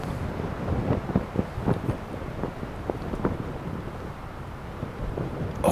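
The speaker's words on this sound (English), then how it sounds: "blow, wind, blow!" Gusty wind buffets an outdoor microphone on a golf course during a tournament, a steady low roar with irregular thumping gusts throughout, no voices.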